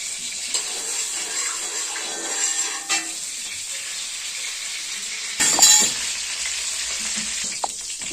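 Cumin seeds frying in hot oil and ghee: a steady, close hiss of sizzling fat that flares into a brief louder crackling burst partway through before settling back.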